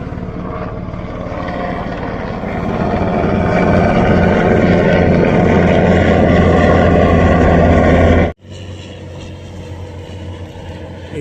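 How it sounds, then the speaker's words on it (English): Loud, steady rotor and engine drone of a Sea King rescue helicopter flying low over the sea in Wales, swelling over several seconds, then cutting off sharply to quieter background. "there's a helicopter dead low to the sea over there"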